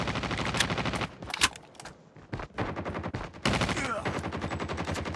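Gunfire in the mobile shooter game Call of Duty Mobile: loud bursts of automatic fire and sharp single shots in close succession, with a short lull midway before dense firing resumes.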